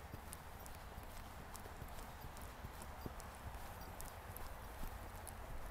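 A ridden horse's hooves clip-clop in a steady rhythm on an arena surface during a riding lesson, faint and somewhat distant throughout, without clear speech.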